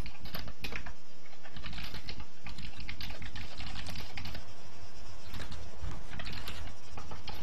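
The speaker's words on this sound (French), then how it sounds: "y'en a un qui s'excite sur son clavier, là." Fast, hard keystrokes rattle on a computer keyboard during an Altis Life roleplay game session, a dense continuous clatter close to the microphone with background noise.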